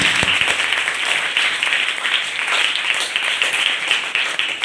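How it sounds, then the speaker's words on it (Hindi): Sustained, loud audience applause at a children's poetry gathering honoring Ramdhari Singh Dinkar, a dense wash of many hands clapping steadily throughout with no speech over it. "पूजा जी को मंच पर निमंत्रण दे रहा हूं और आप जोरदार तालियों से"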